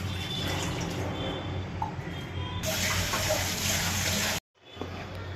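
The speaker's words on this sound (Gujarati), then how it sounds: "મલાઈની અંદર થોડુંક આપણે પાણી ઉમેરી દીધેલું છે" Water is poured into cream (malai) in a home kitchen before churning it for buttermilk and butter, a steady rushing splash that stops abruptly, over a constant background hiss.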